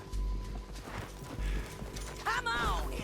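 Horse hooves clip-clop in the video game Red Dead Redemption 2, a steady rhythm of soft thuds under spoken dialogue and ambient game sound.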